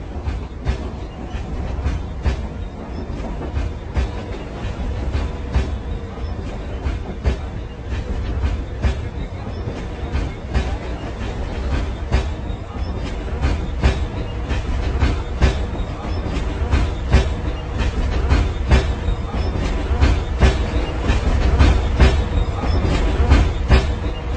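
A commuter train rolls between stations, its steady low rumble filling the carriage with rapid rhythmic clicking of wheels over rail joints that grows slightly louder toward the end, with faint voices now and then.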